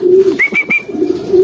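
Racing pigeons at a summer training session in San Fernando, Pampanga, give close, loud cooing calls with a short rising whistle-like note in the middle.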